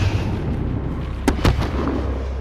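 A grenade blast in the Call of Duty Modern Warfare campaign: two sharp booming explosions close together, with a smaller echoing pop after, over a steady rumbling battle background.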